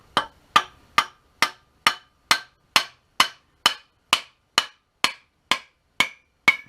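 A hammer striking a Plumb double bit axe head to seat it on its handle, a steady series of about fifteen sharp metallic blows at an even pace, close and alone.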